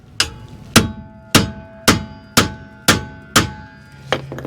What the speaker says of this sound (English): you just hit the end of this with a sledgehammer, or Tanya Harding here